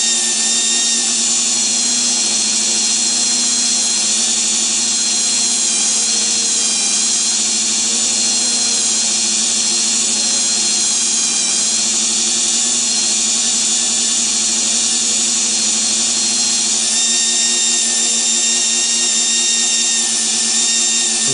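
Steady, continuous high-pitched whine of a metal axle spinning while being polished, loud and unbroken throughout with no voices.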